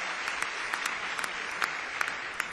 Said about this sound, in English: special round of applause for them too.